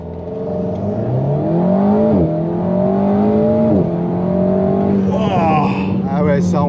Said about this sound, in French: un petit 0 à 100 pour la route.